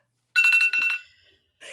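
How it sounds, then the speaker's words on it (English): A timer goes off nearby with a loud electronic ring made of rapid pulsing beeps for about half a second, fading briefly, then a second burst starts. "Yes, I beat the timer again."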